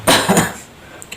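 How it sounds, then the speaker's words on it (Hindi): A man gives two quick, harsh coughs close to the microphone, then breathes quietly with a couple of faint clicks in the background. "मेरा थोड़ा बोलने का कोशिश करता हूँ तो मेरा खांसी आने लगता है।"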